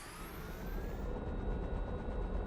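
A helicopter engine from Farming Simulator 17 drones steadily with a dense low rumble and broad whine, loud and unbroken, with no talk over it.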